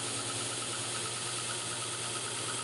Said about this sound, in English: So this belt that we're using right now is an 800 grit belt.